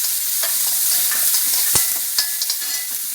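Cumin seeds and small onions frying in a pan, a steady bright sizzle with scattered stirring scrapes and one sharp clack midway, close and alone with no talk.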